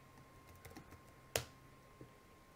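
Typing on a computer keyboard, a few soft key taps followed by one sharp louder keystroke and a faint final tap, close and quiet.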